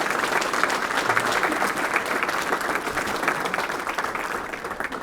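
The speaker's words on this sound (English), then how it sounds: "Can we please go ahead and have a round of applause for Commander Salvaggio?" A crowd at a Rotary career and technical education awards event claps steadily and loudly for a retiring commander, a dense, sustained round of applause with no break.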